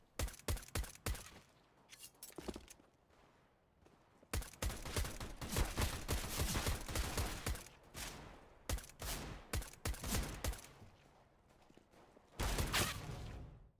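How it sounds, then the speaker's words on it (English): Rapid pistol shots from a USP in a shooter game ring out in irregular bursts, some single cracks and some quick clusters, loud and sharp against a quiet background. "you just want to get some nice little headshots like these right here with the USP"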